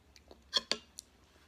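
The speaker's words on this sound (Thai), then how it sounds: "เคี้ยวเลยเคี้ยวก่อนค่ะ เคี้ยวไปเลยลูก" A child bites into and chews a raw shallot, giving a few crisp, close crunches spaced over a second in a quiet room.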